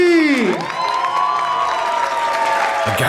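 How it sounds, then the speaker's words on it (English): An audience at a live astrology-debunking show applauds and cheers loudly together, with a whooping voice gliding down over steady dense clapping throughout. "Give a big round of applause for Austin, Kelly, and Chris"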